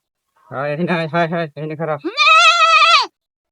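A goat bleats close and loud. A few short, choppy calls come first, then one long, wavering bleat before the sound cuts off.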